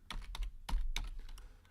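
Numbers typed on a computer keyboard, a quick run of close, crisp key clicks in an uneven rhythm with no voices.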